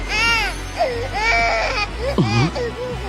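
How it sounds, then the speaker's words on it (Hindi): A baby cries in an animated Hindi-dubbed anime, rising and falling wails in several bursts with a sharp louder cry near the end, close and clear. "ये तो वाकई बच्चे की आवाज है।"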